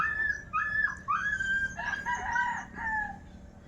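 Roosters crowing repeatedly nearby, overlapping calls with chickens clucking, against a quiet outdoor background.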